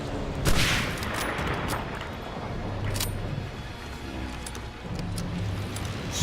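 Sustained gunfire in Medal of Honor Allied Assault fills the scene, a dense crackle of rifle and machine-gun shots at steady, moderate loudness with scattered sharper reports and rumbling battle noise beneath.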